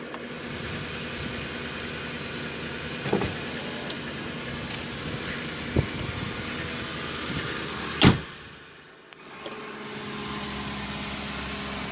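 A 1999 Lincoln Town Car idling after a cold start, with a steady, even engine hum and a few sharp knocks and clunks nearby, one louder thump followed by a brief dip in the drone.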